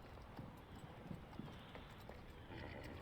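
A horse's hooves clip-clopping in a quiet, faint, uneven rhythm of soft thuds beneath a steady low background rumble.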